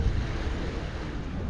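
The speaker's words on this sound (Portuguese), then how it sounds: "Ventando, ventando bastante." Strong coastal wind roars steadily into the microphone near Camburi, Brazil, a dense low buffeting rumble with a faint wash of surf underneath, continuous and loud throughout.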